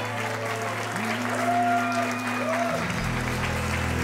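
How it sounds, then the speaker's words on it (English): Wedding guests applaud at a reception, a steady wash of clapping close and fairly loud, with sustained music tones and shifting notes playing underneath. "Let's give him a big round of applause."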